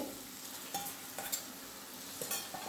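Yogurt, turmeric and masala-marinated chicken is stirred and sautéed in onion masala for Malvani sukka chicken. Soft sizzling runs under a few light spatula scrapes and taps, fairly quiet, with no talk.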